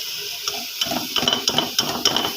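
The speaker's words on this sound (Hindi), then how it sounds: "इसके साथ मसाले के साथ हम गोभी की भी अच्छी से भुनाई करेंगे तकरीबन 2 मिनट।" Cauliflower stir-fried with spice masala in a pan for an aloo gobi dish, giving a loud close sizzle with bursts of stirring and spatula scrapes that grow busier toward the end, no talking.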